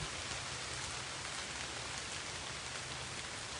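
Steady, dense rainfall at a resort in Mabitac, Laguna, a constant broadband hiss of drops hitting surfaces, even in level throughout with no voices.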